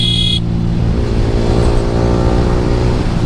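Yamaha R15 V3 motorcycle fitted with an Akrapovic R9 exhaust held at full throttle, a loud, steady engine drone close by with no talk over it.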